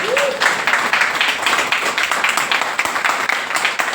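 A crowd applauds steadily, dense clapping filling the room without pause for a few seconds.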